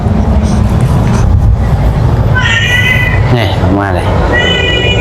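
A cat meows several times in a few drawn-out, rising cries against a loud, steady background rumble, with someone talking close by between the calls.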